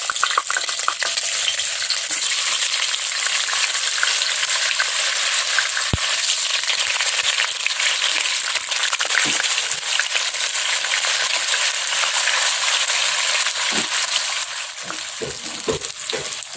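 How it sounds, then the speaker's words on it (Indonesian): Tofu fries in hot vegetable oil, a steady loud crackling sizzle that continues throughout, with occasional clinks and scrapes of a utensil near the end. "sekarang ini saya panaskan minyak sayur, lalu kita goreng tahunya."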